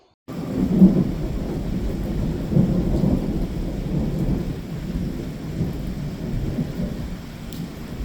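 Steady rain with a low, rumbling roll of thunder running throughout a farm field, heavy and continuous, with no voices.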